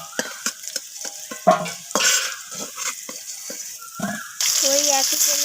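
Jackfruit and potato pieces fry in mustard oil for a vegetarian jackfruit curry, with loud bursts of sizzling and repeated utensil scrapes and stirring, and the sizzle swelling sharply near the end as more pieces go into the hot oil.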